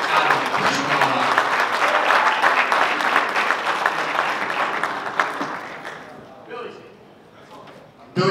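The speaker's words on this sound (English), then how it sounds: "How about a round of applause" Loud crowd applause at a boxer announcement event, dense clapping with shouting voices mixed in, fading out toward the end before a sharp burst of sound.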